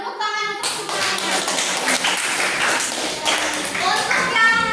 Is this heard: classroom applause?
yes